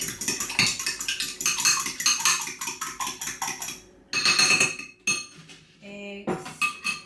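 Eggs scrambled for kitchen sink cookies, a busy clatter of whisk or fork against a bowl in fast, steady strokes, close and loud, with brief pauses and a few lighter clinks near the end.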